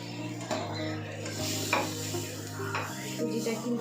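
Semolina roasting in a hot wok while being stirred, cooked for homemade sandesh: a steady sizzle with scraping stirs and occasional metallic clinks of utensil on pan, heard close and without talk.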